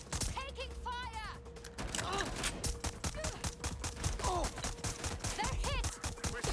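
Rapid bursts of gunfire and mechanical clatter in the video game Watch Dogs Legion, dense and loud, with radio-style voices calling out over the shooting.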